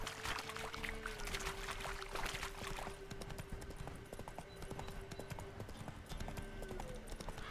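Roach the horse trots along in The Witcher 3, a steady clip-clop of hooves running throughout over a continuous ambient bed, close and fairly even, with a faint voice briefly underneath.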